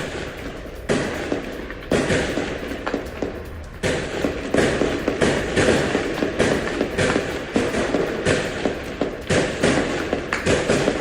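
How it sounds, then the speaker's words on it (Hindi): Heavy gunfire aimed at IDF vehicles during the Israel-Gaza war, rapid sharp cracks and thuds in dense, irregular bursts with a few short gaps, loud and continuous throughout. "आईडीएफ वाहनों पर जबरदस्त फायरिंग।"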